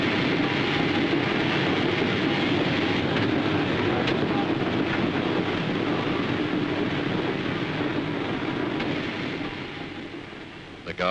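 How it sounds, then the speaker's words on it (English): A 1949-era train rumbles loudly and continuously as it pulls into a seaside-bound station platform, its roar steady before easing slightly at the end. "just in time, here's their train."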